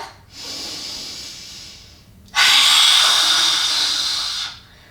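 Two forceful yoga lion-breath exhalations with the tongue out: a breathy hiss, then a louder, longer rushing blast of air, both close and alone.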